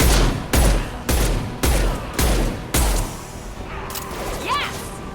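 Hand cannon fired in the video game Mass Effect 2: six loud, evenly spaced heavy shots about half a second apart, followed by softer game effects and a rising electronic whine.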